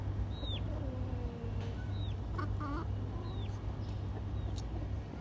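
Chickens cluck and call while feeding, with scattered short squawks and murmuring clucks at moderate distance over a steady low outdoor hum.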